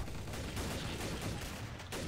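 Dense, continuous gunfire in the shooter game Trouble in Terrorist Town fills the moment as a loud, rumbling wash of overlapping shots without clear gaps.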